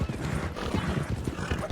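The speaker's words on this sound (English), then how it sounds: "She's got a horse that's following her." Horse hooves clip-clop at a steady trotting rhythm close behind a cart in Red Dead Redemption 2, racing through a snowy winter endurance race, with a brief whinny and faint mechanical rattle mixed in.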